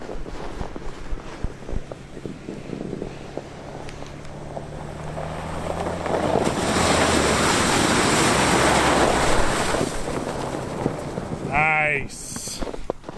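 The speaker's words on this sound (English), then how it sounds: "let's see how the Bronco handles driving through this gnarly slush" Ford Bronco ploughing through deep winter slush, a broad rushing, splashing wash that swells louder midway and stays steady, with wind buffeting the microphone and a short chirp near the end.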